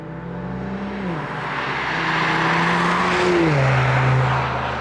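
Mercedes SL400 with a 3-litre twin-turbo V6, engine droning loudly and building, with pitch drops between gears and a swelling roar toward the end, no voices.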